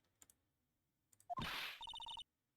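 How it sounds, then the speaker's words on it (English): A telephone-style ring, loud and close: a burst of electronic trill followed by a rapid series of about six evenly spaced repeating beeps, preceded by a few faint clicks. "The cell phone ringing is daunting."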